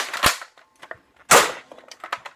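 A modded Nerf Longstrike blaster fires Zombie Strike darts, giving two sharp, snappy pops about a second apart. Faint clicks and rattles of the mechanism come between them.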